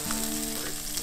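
Pork belly is stir-fried in a pan outdoors beside a lake, giving a loud, steady, close sizzle with faint stirring scrapes and no voices.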